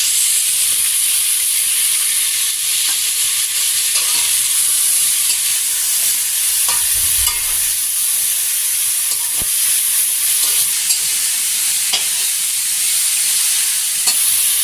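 Eggplant and tomato fry in a pan with a constant, loud hissing sizzle, close and unbroken, with faint occasional knocks and no voices.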